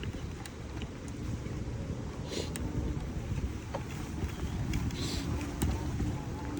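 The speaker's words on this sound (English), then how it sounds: "the wind's blowing everything around" Steady outdoor wind buffets and rushes across the microphone in a continuous broadband roar, with faint brief clicks now and then and no talk.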